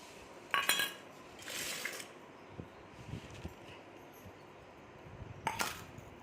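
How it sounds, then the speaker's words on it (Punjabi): Masala spices are pounded by hand for a potato and soya chunk curry, giving a few sharp metallic clinks and soft thuds, spaced irregularly and fairly quiet against a hushed kitchen. "ਆਪਾਂ ਇਧਰ ਮਸਾਲਾ ਕੁੱਟਣ ਲੱਗੇ ਆ"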